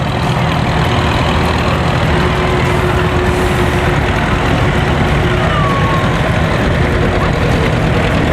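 A John Deere tractor with big rear tires, fitted with an older standard muffler, idles in a steady, loud, continuous drone with no talk over it.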